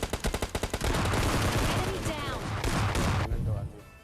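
Gunfire in PUBG Mobile Lite, with a quick burst of rapid, evenly spaced shots followed by a dense, continuous barrage that fades near the end, loud and close under the player's talk.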